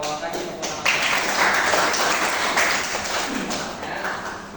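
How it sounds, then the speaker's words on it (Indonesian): Classroom applause breaks out after a teacher's call in an Indonesian lesson, a dense wash of clapping from a group of students lasting several seconds, moderately loud and close. "kasih tepuk tangan"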